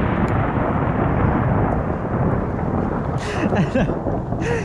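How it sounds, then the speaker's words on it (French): Stormy wind roars through trees during a snowstorm as a dense, loud, unbroken rush with no clear pauses, while faint voices come through briefly near the end. "C'est vraiment tempête de neige."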